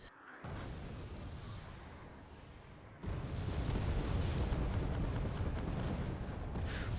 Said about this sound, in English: Somebody is shooting cluster artillery on the infantry, which is even more concerning.